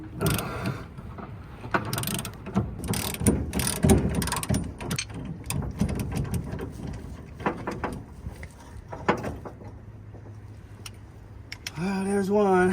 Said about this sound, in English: I'm doing the rear shackle leaf spring. It's got 2 wrenches